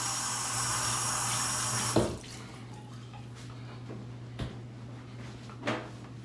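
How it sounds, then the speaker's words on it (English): Tap water runs into a bathroom sink as hands are rinsed, a steady loud rush that cuts off after two seconds, followed by a quiet room with a few soft knocks and clicks. "And then I'm gonna rinse my hands off."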